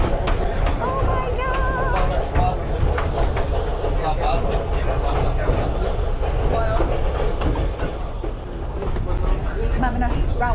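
Forest train rolling slowly over a stretch of railway track with no dirt beneath it, a continuous rumble with faint rhythmic clatter running throughout, with people talking over it.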